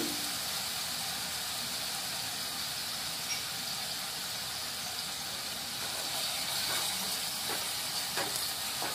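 Ginger garlic paste sizzling in a hot pan while prawn biryani is being cooked: a soft, steady frying hiss that holds evenly from start to finish, with a few faint crackles near the end.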